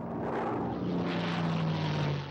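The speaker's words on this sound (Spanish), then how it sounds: "La primera oleada de aviones Zero japoneses llega a Midway" A Japanese Zero propeller fighter plane from the Second World War drones steadily overhead, with a loud, continuous engine roar and a low, sustained hum, alone and without speech.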